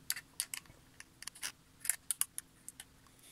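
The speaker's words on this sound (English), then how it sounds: "So I can just loosen them with pliers," Small, sharp metallic clicks and ticks from pliers loosening washers on the potentiometers of a Tascam 244 mixer, scattered irregularly and close up against a quiet background.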